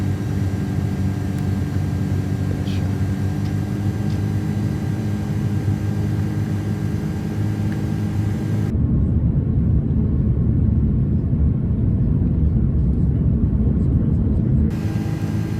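Condor Airbus A330 airliner engines drone steadily in a flight simulator game, shifting midway to a heavier, rumbling roar that holds for several seconds before easing back to the earlier hum.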